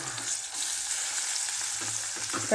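Finely chopped onion frying in a pan for a lentil amti, a constant close sizzle with faint stirring touches and a sharper burst at the very end.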